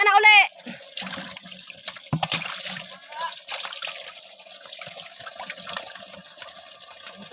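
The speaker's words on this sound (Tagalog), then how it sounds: "Biboy, patayin mo na muna boy ang tubig boy." Tap water runs and splashes while fish are cleaned outdoors, a steady close trickle and splatter with clatter, and people talk over it throughout.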